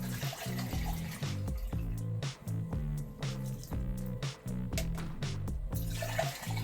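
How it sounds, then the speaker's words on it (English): Water pours onto a cannabis plant growing in coco coir, a steady close trickling and splashing with gurgles, over a low repeating hum. "let's water this thing here with this, and then we'll test the runoff"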